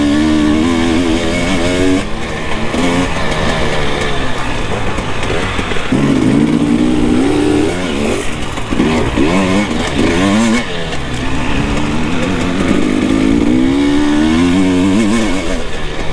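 A Husqvarna TPI two-stroke motorcycle engine revs hard and loud for a sustained stretch, its buzzing note rising and falling through repeated throttle blips, close up with no talking.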